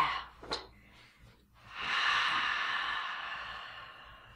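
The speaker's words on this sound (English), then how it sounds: "Take a deep breath in. And a full breath out." A slow, deep inhale followed by a long, full exhale during seated chair yoga: a short sharp intake, then a sustained airy breath out that fades gradually, close and alone with no talk.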